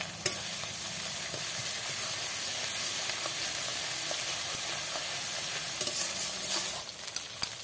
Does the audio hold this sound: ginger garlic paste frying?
yes